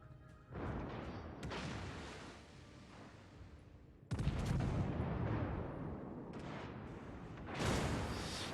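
Naval guns firing high-explosive shells in a video game, a series of booming salvos with rumbling tails, several heavy blasts in quick succession at moderate volume.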